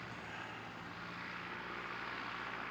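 A light aircraft at an aero club taxis along the runway, its engine making a steady, fairly faint drone that holds even from start to finish, with no voices over it.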